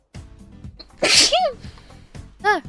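A person sneezes loudly once amid a late-night hardcore Minecraft gaming session, a sharp burst followed by a short voiced tail, with game sounds and a brief vocal sound around it.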